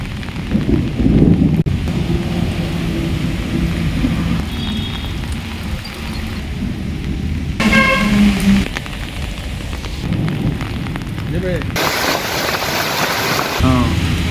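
Heavy afternoon rain in Durgapur with thunder, a loud steady downpour with low rumbling bursts, broken by shifting clips and some brief voices.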